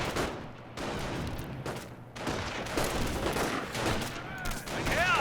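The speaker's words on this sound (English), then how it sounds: "They just take pot shots at one another" Rifle fire in the video game Company of Heroes: scattered overlapping shots and bursts crackle across the battlefield at moderate volume, with a voice talking over the fighting.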